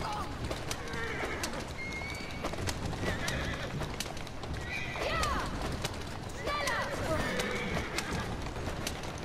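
A horse-drawn carriage in the video game Assassin's Creed Syndicate rolls along with steady clip-clopping hooves and occasional whinnies, mixed with street bustle and heard under someone talking.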